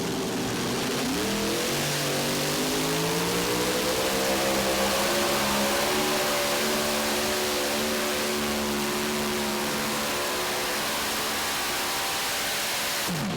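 A pulling tractor's heavy engine roars loudly and climbs steadily in pitch as it revs up at a national tractor pulling championship, a sustained straining drone over a wash of noise.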